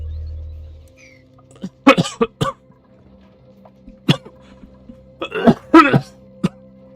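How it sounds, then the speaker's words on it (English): Several separate bursts of coughing and throat clearing in short clusters, with quiet gaps between them, close by. "Oh, were you coughing?"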